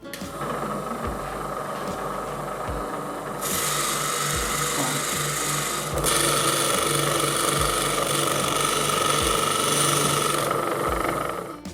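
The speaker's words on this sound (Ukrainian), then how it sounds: "Зараз спробуємо заточити свердло." A small motorized drill bit sharpening machine whirs continuously with rhythmic knocking pulses, growing louder and harsher midway as the drill bit meets the grinding stone.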